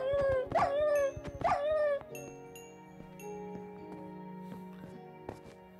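Dogs in a video game let out two whining, pitch-bending yelps in close succession, followed by sustained electronic game music tones with no voices.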